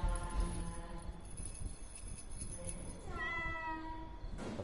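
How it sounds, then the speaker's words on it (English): A cat meows in the horror video game Dreadout 2, several drawn-out, wavering cries rising and falling over a low ambient background, with one sharper call near the end. "That was one weird cat."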